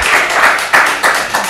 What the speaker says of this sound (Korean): 하나님께 영광 박수.